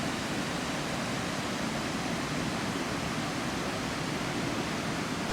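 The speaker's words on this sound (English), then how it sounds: "I'm not sure if you can even hear me with this waterfall nonsense" Burney Falls waterfall roaring, a steady, dense, broadband wash of falling water that stays loud and unchanging throughout with no other sounds.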